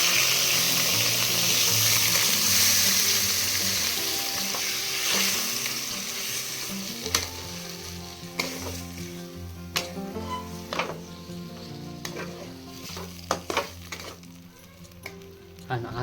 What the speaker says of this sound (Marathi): आणि आता आहे ना तेलामध्ये चांगला फ्राय करून घ्यायचा हा काळा मसाला